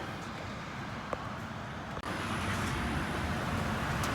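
A 1974 Chevrolet C30 Squarebody dually truck on the road, heard from inside as a steady broadband rumble of engine and road noise with a brief bump near the midpoint.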